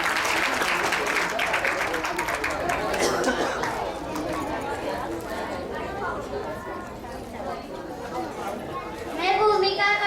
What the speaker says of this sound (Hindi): जोरदार ताली से स्वागत करेंगे भूमिका का।